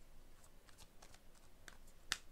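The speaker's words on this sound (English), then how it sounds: "Keep shuffling." A deck of cards being shuffled, quiet riffling and light flicks at close range, with one sharper snap near the end, no talking.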